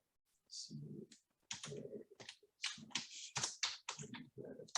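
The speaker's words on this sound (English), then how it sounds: "I'm just typing it into the" Quick bursts of keyboard typing clatter close by, alternating with a person talking quietly in short phrases.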